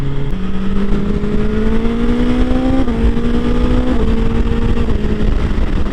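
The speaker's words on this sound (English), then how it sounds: "I can quite easily hear my bike hear the engine, hear the exhaust" A BMW S1000XR motorbike engine drones steadily at close range, its exhaust note shifting pitch in a few stepped changes as it runs on without pause.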